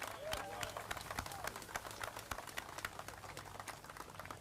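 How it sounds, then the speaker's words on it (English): Applause for basketball teams fills the space as dense, continuous clapping from a gathered crowd, steady and moderately loud throughout. "let's give them a round of applause as well"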